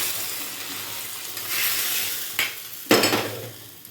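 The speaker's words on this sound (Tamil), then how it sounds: "கடுகு, வெந்தயம், சீரகம் போட்டு தாளிச்சிருக்கோம். வெங்காயம், கருவேப்பிலை செவந்தவொடனே நல்லா செவக்கட்டும்." Mustard seeds, fenugreek, cumin, onion and curry leaves sizzle in hot oil for a tamarind drumstick curry tempering, a steady hiss with a couple of sharper crackling bursts near the end, no talking.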